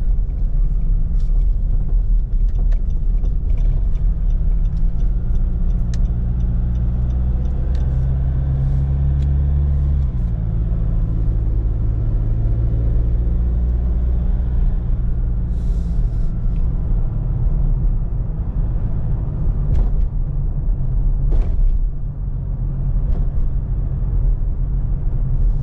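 A car crawls through heavy traffic on NLEX, giving a steady, loud low rumble of engine and road noise throughout, with faint clicks and distant vehicle sounds over it.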